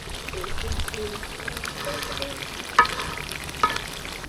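Chicken sautéed on a low flame for chicken kosha, a soft steady sizzle with a couple of sharp spatula scrapes and clanks against the pan, close by.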